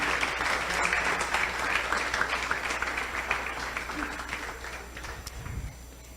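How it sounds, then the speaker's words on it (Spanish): A church congregation applauds during a sermon, a sustained dense wash of clapping that slowly tapers off, with some voices mixed in. "Dele un fuerte aplauso al Señor."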